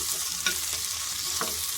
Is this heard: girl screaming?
no